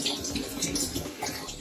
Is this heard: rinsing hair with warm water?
yes